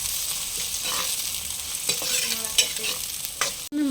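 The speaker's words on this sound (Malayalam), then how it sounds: "ചെറിയ ഉള്ളി ഒന്ന് ഇളക്കി കൊടുക്കും അല്ലേ മാമ?" Small shallots frying in oil in a pan for chicken curry, a steady close sizzle broken by scraping stirs of a spoon and a few clinks against the pan, ending in a sharp knock.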